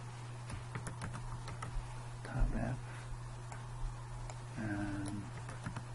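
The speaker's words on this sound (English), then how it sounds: "If I type this to top" Quiet keyboard typing, a scattering of light clicks over a steady electrical hum, with a couple of brief voice-like sounds in the background.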